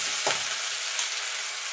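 Ginger and green chilli paste frying in oil with panch phoron, an even close sizzle with a couple of brief scraping stirs of a spoon in the pan.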